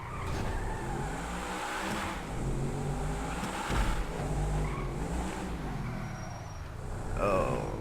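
Supercar engine revving and roaring steadily through a garage section of the Stunt Race video game, close and continuous with shifting pitch, brief tire squeals and a rising rev near the end.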